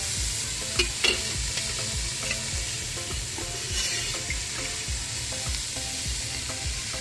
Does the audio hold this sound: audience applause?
no